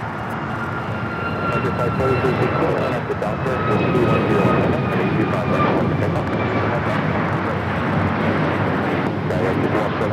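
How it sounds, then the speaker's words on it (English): A United Airlines Boeing 737 MAX 9 jet takes off at an airport, its engines a sustained loud roar with faint whining tones on top, swelling slightly midway, with people talking quietly beneath. "This is United Airlines 1293 taking off to Houston Intercontinental on the MAX 9."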